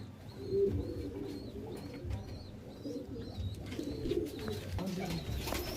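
Pigeons, including Chandrakani, Rampuri and green birds, coo in a loft with low rolling calls from several birds at once, joined by a repeating high chirp and faint background voices.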